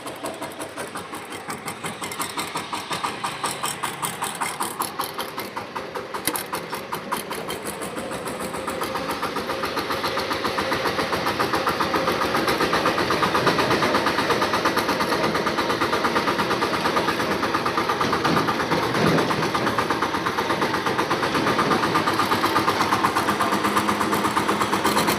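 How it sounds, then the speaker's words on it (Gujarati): Tractor engine running steadily on a farm trip to the field, a continuous mid-pitched engine drone with rhythmic vibration that grows slightly louder and holds throughout, with no talk. "હવે આપણે ટ્રેક્ટર લઈને જઈએ છીએ."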